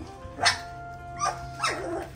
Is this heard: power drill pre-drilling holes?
no